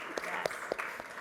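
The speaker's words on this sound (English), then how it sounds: "We can clap." A handful of isolated claps from a panel audience at a finance industry conference, about four sparse, separate hand claps over a murmur of voices.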